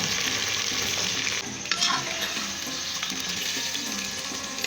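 Mutton pieces frying in hot oil for a korma, a steady close sizzle with a brief stirring clatter partway through and no talking.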